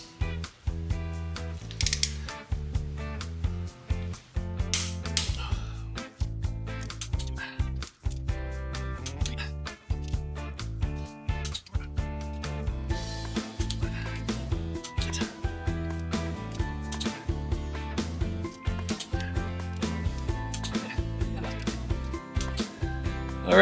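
A ratcheting torque wrench tightens rocker arm bolts on a Twin Cam engine, its rapid metallic clicks and ratchet bursts repeating steadily over a droning tonal background.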